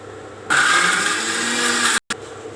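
A mixer grinder starts up abruptly and grinds loudly and steadily with a whining motor, cuts out briefly near the end, then resumes, while cooking jeera pot pulao.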